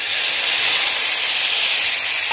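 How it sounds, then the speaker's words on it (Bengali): Spice paste of cumin, coriander, green chilli and a little ginger frying in a pan for a light pabda fish curry, giving a steady, loud, continuous sizzling hiss with no talking. "মশলাটা আমি ভালো করে ভেজে নেব।"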